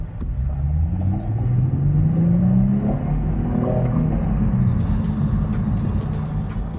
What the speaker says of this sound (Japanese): 今日は新しいムーブ、2025年式でオドメーター1000キロの車に乗っています。